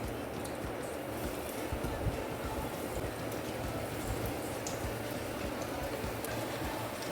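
Steady dense sizzling of fish donuts frying in hot oil over a medium flame, a constant close crackling hiss with no pauses.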